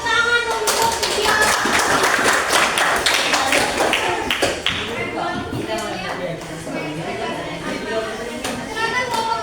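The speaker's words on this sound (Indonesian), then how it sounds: "Beri tepuk tangan untuk video." An indoor group claps for a presentation in a classroom-style setting, a dense patter of many hands that stays steady and gradually thins, with faint chatter underneath.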